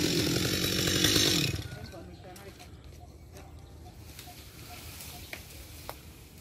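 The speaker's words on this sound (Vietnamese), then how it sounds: "Cưa cây đó tôi cưa nè." A saw cutting a tree whines loudly for the first second and a half, then cuts off. Quieter outdoor sounds follow, with a few faint clicks and bird-like chirps.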